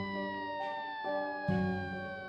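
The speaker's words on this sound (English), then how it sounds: "Now here comes the warning siren." A warning siren sound effect plays as a steady electronic wail with layered tones that slide slowly downward, moderately loud and alone with no talking.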